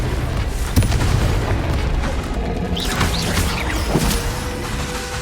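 Loud booming blasts from the Confringo spell in Hogwarts Legacy fill the clip, a sustained rumbling explosion with crashing debris and a couple of sharper impacts, close and heavy with no voices over it.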